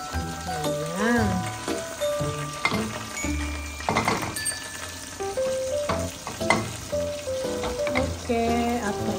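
Tilapia frying in oil for escabeche, a busy sizzle with stirring, clinks and scrapes from the pan, close, with a voice talking over it at times.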